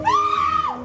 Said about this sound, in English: A mother screams in terror for her baby during an assault and attempted carjacking.